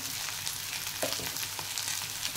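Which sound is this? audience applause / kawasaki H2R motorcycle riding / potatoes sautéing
potatoes sautéing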